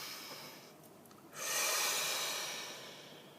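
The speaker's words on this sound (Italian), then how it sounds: "Allora facciamo un bel respiro profondo." A single deep breath, close to the microphone: a soft airy intake swells after a quiet moment, then slowly tails off.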